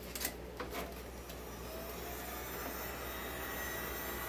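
Compressed air blasts onto a steel cage bearing during a bottom-end rebuild on a 2149 engine, a steady loud hiss with a few short bursts at the start, close to the mic.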